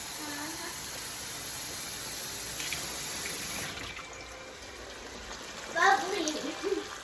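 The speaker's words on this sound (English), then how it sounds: "Add one more cup of water to the beans." Water pours into a pot of beans while Puerto Rican-style rice and beans are cooked, a soft splashing hiss that swells briefly before fading. Voices are heard toward the end.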